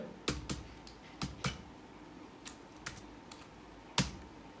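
Short bursts of computer keyboard keystrokes while a PIN code is entered, a few quick clustered taps then isolated presses spaced apart, close and fairly quiet.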